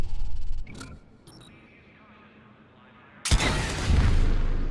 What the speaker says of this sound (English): That's the exploding sniper